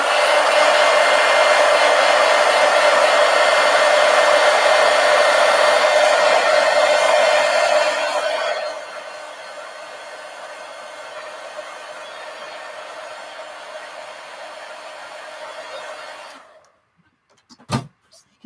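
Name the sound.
heat gun blowing to dry a craft piece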